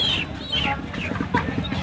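Native chickens cluck close by in short, repeated calls, with busy chatter in the background at a traditional village market in Bogura, Bangladesh.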